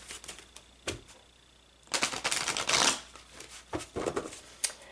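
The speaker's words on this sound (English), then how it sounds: "So let's just pull a couple more cards about this." Tarot cards are shuffled and pulled in a quiet room, with a few sharp riffling bursts. A longer, dense flurry of card noise comes in the middle, and no voice is heard.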